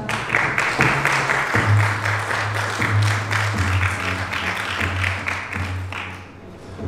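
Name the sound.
audience applause for presenter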